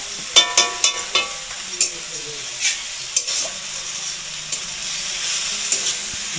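Goat meat korma with chili and cumin powder stir-fried in a pan, a steady close sizzle broken by sharp metallic clinks of the spatula early on, then softer scraping strokes under the continuous hiss.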